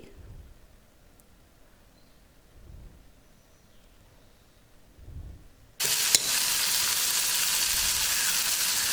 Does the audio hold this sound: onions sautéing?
yes